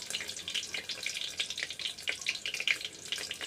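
Sausages frying in hot oil in a pan, a steady close crackle and spitting sizzle with bright irregular pops throughout and no talking.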